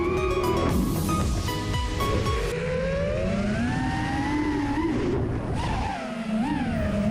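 An FPV drone on DAL Cyclone 5050 tri-blade propellers whines loudly and fairly close, its pitch climbing and dipping as the throttle rises and falls, with a brief drop near the end.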